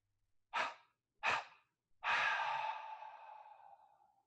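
Two short, sharp breaths are followed by one long, deep inhalation during yoga breathing practice, close and clear against near silence, fading gradually.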